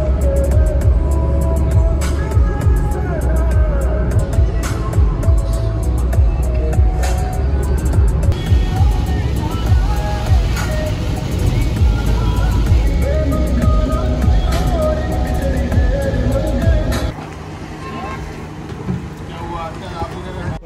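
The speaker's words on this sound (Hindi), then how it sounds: "अब गाड़ी भी 80-90 जा पा रही है, तो गाड़ी को भी मजा आ रहा है चलने में।" A car speeding along a Rajasthan highway at around 80–90 km/h, with a steady loud road and wind roar inside the cabin under talking, easing off near the end.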